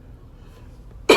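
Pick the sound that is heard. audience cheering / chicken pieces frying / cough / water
cough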